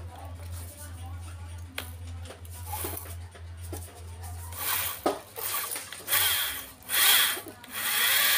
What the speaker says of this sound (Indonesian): Jadi kita harus bor dulu ini